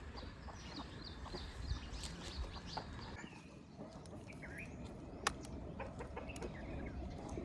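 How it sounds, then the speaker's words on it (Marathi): Hens start eating fodder spilled near a calf on a farm during rain. Faint scattered clucks and soft chirps sound over a quiet, low ambient background, with no speech. "कोंबडी खायला लागली"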